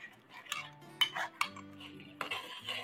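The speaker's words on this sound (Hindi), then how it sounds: "चम्मच हिलाते रहेंगे इस तरीके से।" A spoon stirs yogurt in a pot over a very low flame for a chicken Mughlai masala, giving a few distinct metallic clinks and scrapes against the pot with soft, wet stirring between them, close and fairly quiet.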